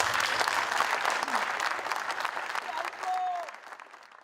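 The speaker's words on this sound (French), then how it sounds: "On les applaudit très fort." An audience applauds an orchestra at a jazz concert in Ouagadougou with dense, steady clapping close by that fades toward the end, while a voice is briefly heard over it.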